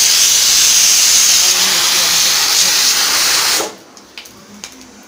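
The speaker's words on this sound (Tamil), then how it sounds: "பாருங்கள், கடுகு வந்துட்டு பொரிஞ்சிடுச்சு. இப்போ இதில் வந்துட்டு கொஞ்சமாக சீரகம் சேர்த்துட்டு" Mustard seeds and cumin crackle and sizzle in hot oil for tempering, a loud close hiss that holds steady before cutting off abruptly, leaving a few faint clinks.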